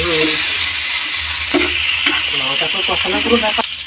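Taro and potatoes are stirred in a hot pan for a Bengali pabda fish curry, with loud oily sizzling and scraping while a voice talks over the cooking partway through.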